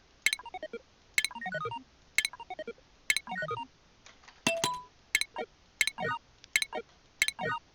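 Bright, plinky electronic notes from Oxygen Not Included game automation pop in a quick sequence, each a short descending arpeggio, repeating about once per second with a brief pause midway.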